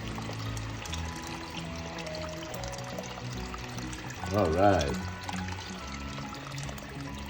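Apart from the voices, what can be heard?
pouring water into chicken glass noodle soup pot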